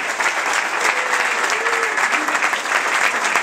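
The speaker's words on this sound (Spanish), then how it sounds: "demos por favor un fuerte aplauso para esos hispanos dueños de negocios del valle" Audience at a Hispanic community event in the valley applauds business owners, steady dense clapping throughout with a few cheering voices rising over it.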